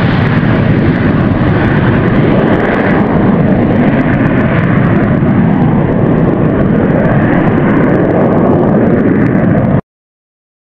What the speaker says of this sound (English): The F-16 Fighting Falcon is ready for takeoff. With its powerful jet engine, it accelerates down the runway to reach speed necessary for takeoff.